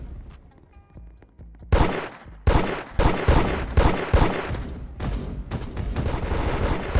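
Gunfire from the Roblox game Da Hood, a burst of loud, sharp shots starting partway in and repeating in quick clusters over a steady backdrop, with no talk.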